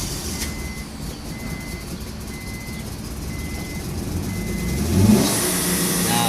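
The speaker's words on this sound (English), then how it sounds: "Now it starts happily." Honda Odyssey engine running after a crank-no-start problem, a steady close idle with a faint repeating beep, rising to a brief rev near the end.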